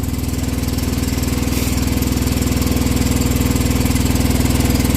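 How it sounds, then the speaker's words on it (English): A John Deere 425 tractor's small engine idles steadily up close, a fast, even rhythmic chugging that holds for several seconds without changing pace. "She's just idling here now."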